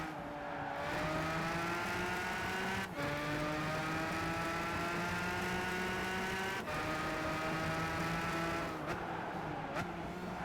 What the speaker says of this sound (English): when I step on the MacLaren, I definitely feels a little bit more accelerating